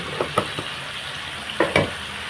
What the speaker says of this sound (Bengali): দেখেন আমি ইন্ডাকশানে রান্না করছি।